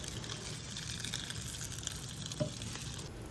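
Smash burgers cooking on a LavaLock griddle plate over a UDS kettle's coals, giving a steady, quiet hiss with a brief scrape partway through and no talking.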